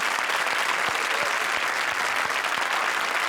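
A studio audience at a comedy show applauds two contestant pairs with loud, continuous clapping that stays steady and even from start to finish, with no talking over it.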